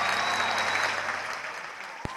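An emotional concert hall audience applauds, sustained clapping from the crowd that fades gradually, with a single sharp knock near the end.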